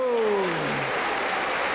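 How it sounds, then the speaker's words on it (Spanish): Applause fills a Pentecostal church service, a dense steady wash of many hands clapping at once, loud and sustained, with a voice briefly trailing off at the start. "Un aplauso para el Señor Jesús"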